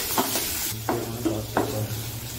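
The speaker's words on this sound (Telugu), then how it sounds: "మంచిగా కలుపుకోవాలి." Tomato bath ingredients with curry leaves being stirred in a hot pan: a soft sizzle runs under three distinct scraping strokes of a spoon, quiet and close.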